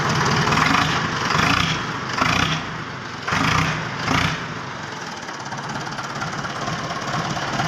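A tractor engine runs after a silencer change, a loud, close, rumbling idle with several short revs that swell and fall back before it settles into a steady chug.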